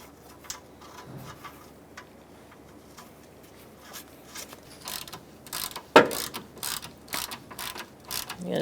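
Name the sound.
ratchet tightening a nut on a Ford Expedition radiator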